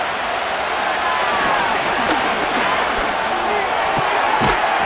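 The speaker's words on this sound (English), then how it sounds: "This crowd trying to be a factor, getting very loud now." A large football stadium crowd in Madden NFL 25 roars loudly and steadily, a dense wall of cheering noise that swells slightly with a few sharp thuds underneath.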